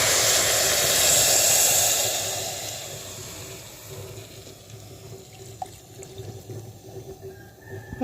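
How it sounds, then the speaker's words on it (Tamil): Second coconut milk poured from a vessel into a pan of manathakkali (black nightshade) greens: a steady, close liquid splash and hiss that is strongest at first, then thins to a softer trickle. "அந்த 2வது பாலை இதில் சேர்த்துக்கணும்."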